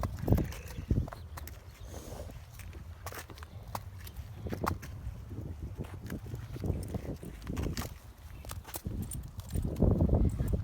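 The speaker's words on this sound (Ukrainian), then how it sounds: "Така кобилка." Irregular hoof strikes of a shod draft mare, sharp knocks and shuffles on a hard surface, some single and some in quick clusters, fairly close, in a village in Ukraine's Ivano-Frankivsk region.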